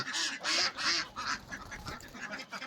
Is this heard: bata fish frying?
no